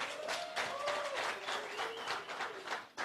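Audience applause at a youth health panel session, a steady wash of many hands clapping through the whole stretch, with voices murmuring underneath.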